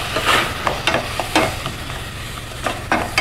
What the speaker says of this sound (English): I'm going to give it a gentle stir and just let it simmer.